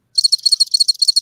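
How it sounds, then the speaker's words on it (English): A cricket chirping sound effect played aloud, a loud, steady run of rapid high-pitched trills pulsing in even groups with nothing else heard. "I wish I had some crickets to play."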